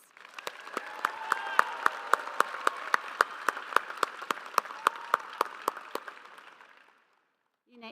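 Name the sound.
audience applause for engineering graduates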